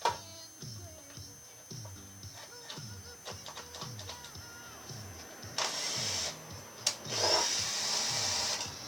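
A power tool in low range whirs in short repeated bursts while working loose a fastener on a Briggs & Stratton 3.5 engine during a teardown, with a louder sustained run later and voices talking nearby.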